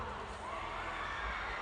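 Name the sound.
concert crowd screaming and cheering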